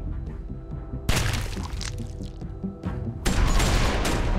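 Gunfire in a zombie TV show, with sudden loud bursts that cut in sharply over a quieter background, one around the middle and a heavier sustained blast near the end, with no talking.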